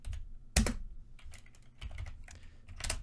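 Someone types on a computer keyboard with a wonky spacebar, producing close, irregular clusters of clicks and one loud thunk early on, quiet and steady with no talking over it.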